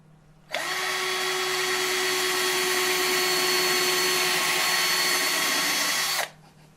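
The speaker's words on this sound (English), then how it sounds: "And I'm going to drill and nail another hole on the other side." Power drill boring a hole in a wooden birdhouse, a single loud, steady whine that starts abruptly, holds for about six seconds, then cuts off, close up with no talking.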